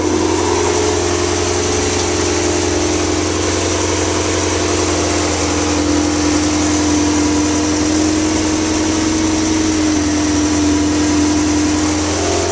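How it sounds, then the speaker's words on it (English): Ferrari 348 engine running steadily in first gear with a wheel spinning freely after a CV boot change, a loud, even mechanical drone with a constant low hum and a slight whine, no talk. "I put it in first gear. Just watching it spin to make sure everything's doing what it's supposed to."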